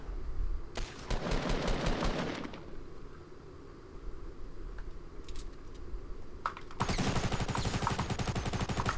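Gunfire in Fortnite: a loud burst of rapid shots early on, scattered single cracks through a quieter middle stretch, then another sustained rattling volley near the end.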